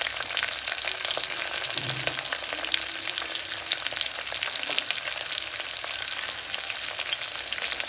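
Onions frying in a pan, browning in oil with a constant dense crackling sizzle, loud and close, unbroken throughout, with no one speaking.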